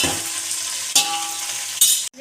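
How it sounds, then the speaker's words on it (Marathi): Coriander leaves and onion roasting in a pan for pulao, giving a continuous soft sizzle with two sharper scraping stirs and a brief clink near the end. "आता टाकू कोथिंबीर. मस्त भाजून घेऊया."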